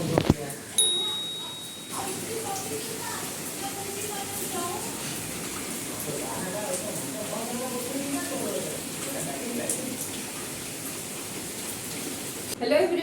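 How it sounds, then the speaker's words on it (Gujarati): Heavy rain falls steadily, a broad, continuous wash of noise that holds at an even level for the whole stretch, with a brief bright ding near the start. "આજથી જોરદાર વરસાદ ચાલુ થઈ ગયો છે"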